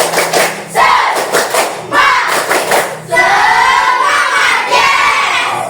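A group of schoolchildren shout and chant together in loud bursts, mixed with sharp rhythmic spirit claps and thumps.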